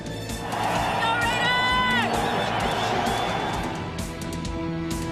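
A football stadium crowd cheers loudly and steadily at a 1999 Oakland Raiders game, with whistles and whoops rising through the roar.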